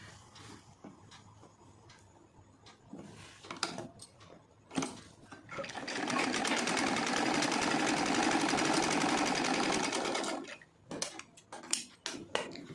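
Sewing machine stitching lace onto silk saree fabric, a steady dense whir running for several seconds in the middle, with brief clicks and handling knocks before and after.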